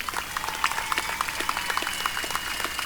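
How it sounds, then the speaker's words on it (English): Scattered applause from a crowd at a military school graduation ceremony, light and somewhat distant, with irregular claps pattering steadily. "Graduates and families, please give yourselves a round of applause."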